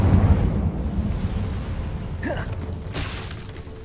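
An Incendio fire spell in Hogwarts Legacy bursts with a loud, rumbling whoosh, followed by a rising swish and a sharp crackling flare as the blast fades.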